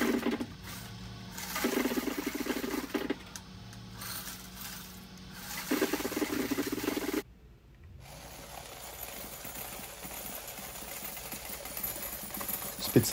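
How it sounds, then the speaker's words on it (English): Coin counting machine sorting car wash tokens from quarters, a steady mechanical whir with dense rattling coin clatter for several seconds, a brief break, then a continuous lower churning hum as it keeps running. "this coin machine, it separates the tokens from the quarters,"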